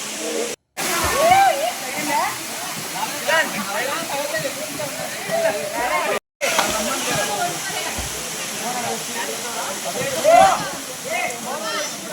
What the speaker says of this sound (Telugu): పైనుంచి వచ్చే నీళ్ళన్నీ ఈ కింది వాటర్ ఫాల్స్ దగ్గరికి ఇలా వెళ్తాయి